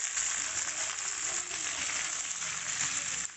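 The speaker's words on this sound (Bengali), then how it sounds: "সর্ষের তেল দিয়ে ঢেঁড়সটাকে ভেজে নিচ্ছি।" Okra frying in mustard oil in a wok makes a steady, close, even sizzle throughout, with a faint stir near the end and no talking.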